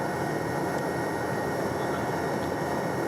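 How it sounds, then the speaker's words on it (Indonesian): Helicopter carrying Indonesia's president taking off from Suwondo air base, a dense, loud, steady roar of engine and rotor wash filling the whole stretch without talk. "helikopter yang membawa Presiden Prabowo Subianto ini sudah take off dari Lanut Suwondo"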